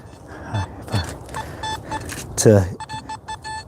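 A metal detector gives a light signal: a series of short electronic tones and beeps, some rapid and clustered, heard close up while a person speaks over them.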